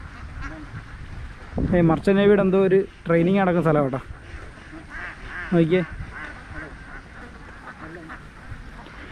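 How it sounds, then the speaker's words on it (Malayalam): Ducks quack in several short bursts along a river, loud and close, with people talking over and between the calls. "പിന്നെ കാണാനുള്ള കുറേ താറാവുണ്ട് കേട്ടോ"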